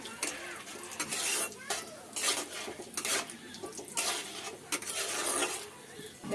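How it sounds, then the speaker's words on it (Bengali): Peanuts being lightly fried in a pan for a spicy semolina snack, heard as steady clattering and scraping of a utensil against the pan with faint sizzle, close and fairly quiet, with no talk. "ভেজে নেব বাদামটাকে একটু হালকা করে একটু ভেজে নেব"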